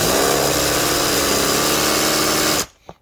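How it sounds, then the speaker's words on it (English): A power drill with a step bit whines loudly and steadily as it bores through plastic, then cuts off abruptly, followed by a brief faint clunk. "we're gonna drill that till we're at the very top of our step bit"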